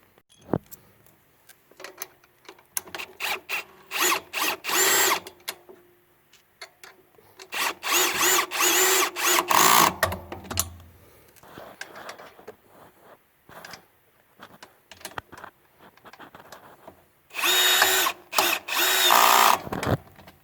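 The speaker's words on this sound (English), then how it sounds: "I'm actually using a drill. It goes in a lot faster than turning it with the 2 wrenches" A power drill whirs in repeated bursts, stopping and starting as it drives a hex nut while assembling wheels onto a Powermate PM9400E portable generator, with clicks and handling noises between runs, close by.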